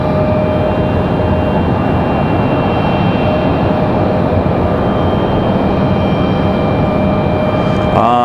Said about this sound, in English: American Airlines 1904, this 737 right here, they're headed it back to Charlotte